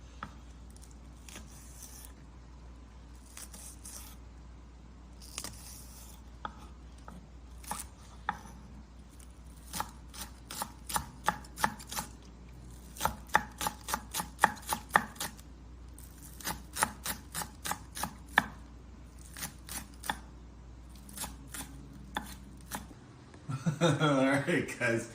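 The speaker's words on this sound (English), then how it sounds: "we're gonna cut some green onions" Knife chopping green onions (negi) on a cutting board while making lobster miso soup, a run of quick, crisp taps in uneven bursts over a low background hum, with clattering and movement at the end.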